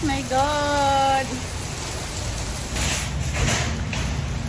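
Heavy rain roars steadily outside a Canadian Tire store, a dense, loud wash of noise throughout, with a short voiced sound near the start.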